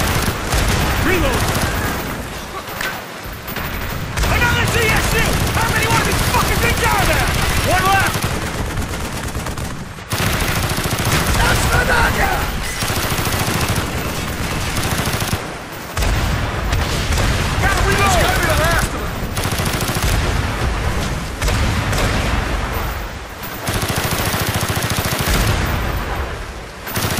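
Heavy gunfire from Call of Duty: Black Ops, with dense, sustained automatic bursts and booming blasts rolling almost without a break, mixed with shouted battle talk.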